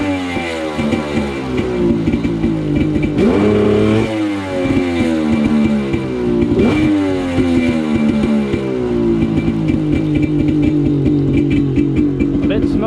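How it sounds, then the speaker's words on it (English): A Yamaha FZR 1200 personal watercraft engine runs with its exhaust open, a loud steady throb that rises in two brief revs around the third and seventh seconds before settling back to a rough idle. "I want like a nice before and after exhaust sound."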